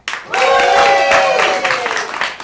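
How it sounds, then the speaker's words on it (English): A burst of enthusiastic clapping from a theater audience at the Hideout, mixed with cheering voices, holding strong for a couple of seconds before tapering off. "Give us a round of applause if you've seen a show at the Hideout before."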